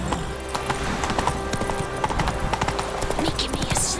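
Rhythmic clip-clop of Roach the horse's hooves galloping in Witcher 3, steady and close, with brief voice sounds mixed in.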